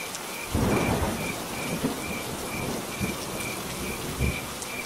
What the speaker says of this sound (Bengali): যা ঝড় বৃষ্টি শুরু হয়েছে